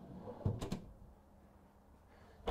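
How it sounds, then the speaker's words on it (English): A soft-close drawer in the kitchen of a 2022 Renegade Explorer 38EMB RV slides shut, giving a few quiet muffled thumps close by, then another soft knock at the end with a hush between. "Notice that all your drawers are going to be quiet closed,"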